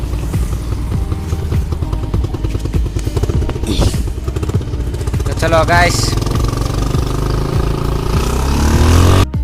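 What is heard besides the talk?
motorcycle arriving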